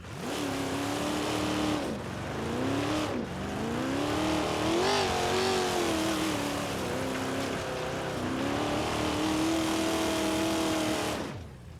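Twin turbo V8 car engine with four-wheel drive in the driving game BeamNG.Drive, roaring loud and steady, its pitch rising and falling through repeated revs and gear shifts, with no talk over it.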